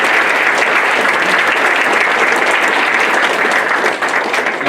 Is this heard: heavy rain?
no